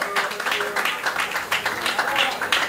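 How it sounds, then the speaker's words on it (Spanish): Scattered applause at a bar dance show during a recognition event, uneven bursts of clapping with cheering voices mixed in, moderately close. "Un aplauso para Jonathan Riva."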